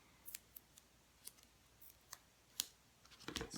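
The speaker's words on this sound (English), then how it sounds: "I didn't bring my other scissors here" Scissors snipping paper to cut out a layered paper-pieced doll for a handmade card, a series of quiet, close, irregular crisp cuts with a brief flurry at the end.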